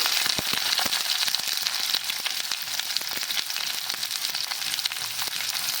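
Chopped onion dropped into hot oil for baingan bharta fries with a loud, dense, steady crackling sizzle, close up, with scattered sharper pops throughout.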